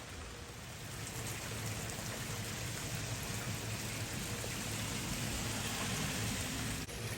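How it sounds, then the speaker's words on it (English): Steady rain falls outside over a tomato garden, a dense even hiss of drops on surfaces that swells slightly and holds without pause, with no voices over it. "now it's raining, so we gotta go inside."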